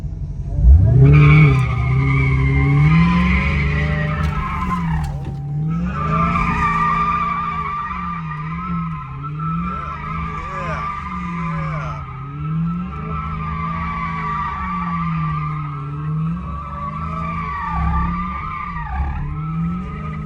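A Dodge Charger Hellcat spins in repeated donuts with sustained tire squeal and a loud engine revving up and down, the screeching rising and falling through each turn, close and continuous.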